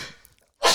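A quick, sharp sneeze bursts out at the end of a quiet moment in a podcast conversation, close and loud but brief.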